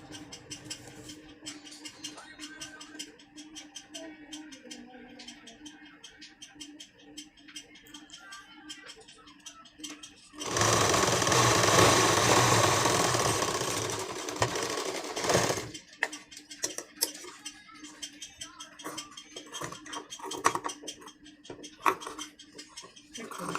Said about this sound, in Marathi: आता उलट्या बाजूने शिलाई मारून घ्यायची